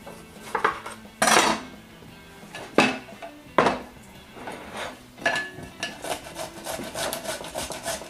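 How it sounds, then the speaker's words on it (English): A tomato being grated on a large kitchen grater for a raw sauce, giving irregular scraping rasps of metal against fruit, several louder strokes standing out near and alone without talk. "Grating it with a big grater."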